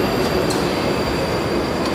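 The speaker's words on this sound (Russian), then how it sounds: "Мы до следующей станции едем, до текстильщиков." Moscow metro train running between stations, a loud steady rumble of wheels and carriage noise heard from inside the car, with faint squeals and clacks over the roar.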